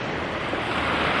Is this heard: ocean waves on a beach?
yes